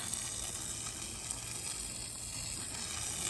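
Low-pressure needle tip on a J-rod sprayer soaking a surface outdoors in the woods, giving a steady, close hiss of spray that holds even and unbroken throughout with no talking.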